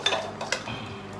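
Metal pots and dishes clatter in a sink as they are washed, a few short clinks and knocks close by, no one speaking.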